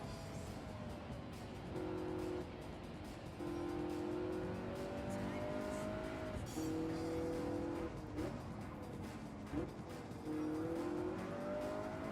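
A race car in Gran Turismo 7 revs and shifts through gears repeatedly, engine tones rising and dropping under braking, with faint tire squeal and another car nearby.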